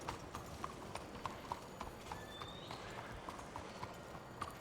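Horse hooves clip-clop at a steady walking rhythm in Red Dead Redemption 2, a continuous train of close, crisp hoofbeats over a dense outdoor ambience with no talking.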